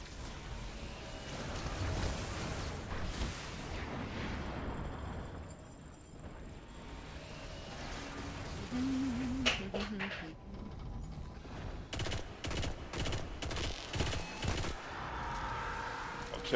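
Spider tank cannon blasts and explosions during a Destiny Nightfall strike, dense layered gunfire and booming bursts with sharp repeated impacts toward the end, under a continuous wash of game noise.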